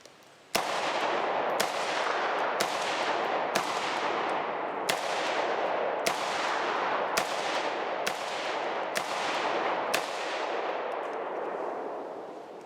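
Rifle lubricated with canola oil firing at beer kegs outdoors: about ten loud, sharp shots at roughly one-second intervals, each followed by a long rolling echo, with no talking.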